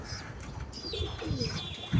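A pigeon with fine eye ceres coos softly outdoors in wind, with faint bird chirps, a short low coo near the end.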